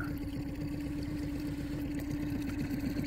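A boat's outboard motor idles at trolling speed, about 1.6 miles an hour, a steady close low hum with even throbbing pulses and no breaks.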